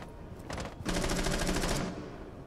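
An FMG9 submachine gun fires in a video game: a short rapid burst, a brief pause, then a longer sustained stream of shots, loud and close, with no talking.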